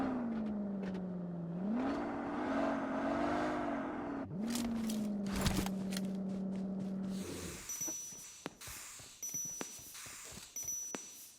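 Car engine droning and shifting pitch as a vehicle drives in the PUBG Mobile battle royale game, steady and close for about seven seconds before giving way to scattered clicks and game effects.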